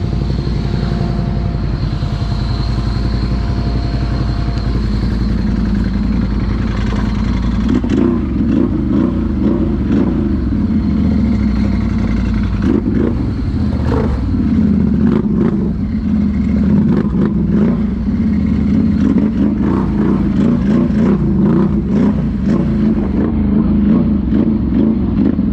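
A Can-Am Outlander Max ATV revving hard in deep mud at the North Augusta mud bogs, a loud continuous close engine roar with surging throttle and clattering.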